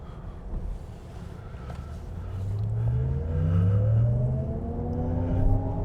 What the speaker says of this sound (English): There is a weird canned engine sound.